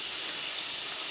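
Salmon patties fry in hot olive oil in a skillet, giving a steady, close, hissing sizzle that holds evenly throughout with no talking.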